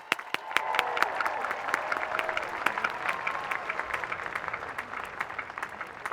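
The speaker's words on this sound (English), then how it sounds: "let's give these graduates a round of applause" A crowd at the Lafayette College Class of 2022 commencement applauds the graduates. The clapping is sustained and even, rising quickly at the start and then holding steady, heard from a moderate distance.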